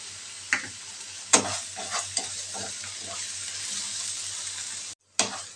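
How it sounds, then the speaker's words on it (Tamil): Ground mint and coriander paste sautéing with onions and salt in a pan, a constant close sizzle with a few scraping stirs of a spoon and a brief break near the end. "இதில் நாம் அரைச்சி வச்சுருக்க விழுதை சேர்த்து நல்லா வதக்கிக்கலாம்."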